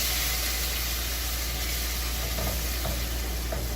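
Half a glass of water poured onto browned onions frying in a pan, giving a steady, loud, close sizzle and hiss that holds throughout, with faint stirring noises and no talk.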